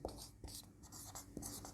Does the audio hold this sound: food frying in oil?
no